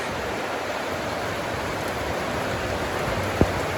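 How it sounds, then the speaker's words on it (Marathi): Heavy rain pours in a dense, constant hiss with no letup, loud and close, with one short sharp knock near the end. "खूपच जोरात पाऊस आलेला आहे गाईज."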